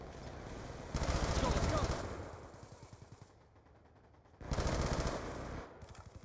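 Bursts of automatic rifle fire from a Type 25 rifle on select fire in the video game Black Ops 2, with two dense loud volleys separated by a quieter stretch of background game noise.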